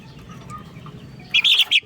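A few short, bright chirping calls from a chicken near the end, over a low rumbling background.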